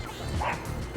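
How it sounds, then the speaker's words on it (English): A neighbour's dog barks in short yips and bow-wows, muffled and somewhat distant, indoors, for about a second with no talk over it. "sorry for the barking"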